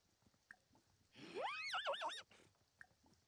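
Horses whinny on a ranch in the video game Sims 4: a single loud, rising neigh that breaks into a wavering, trilled whinny for about a second, alone over a quiet background.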